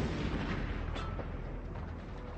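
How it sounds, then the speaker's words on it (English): Artillery shelling rumbles continuously in loud, dense, overlapping booms and blasts with no quiet gaps, heavy and close throughout. "The Canadians had to face relentless shelling."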